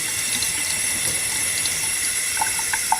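Cool tap water runs steadily from a faucet while Berkey water filters are purged, a constant soft rushing hiss with a few faint clicks and taps near the end.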